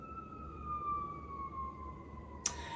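A distant siren wails in a long, slowly falling tone over low traffic rumble, ending with a brief sharp noise.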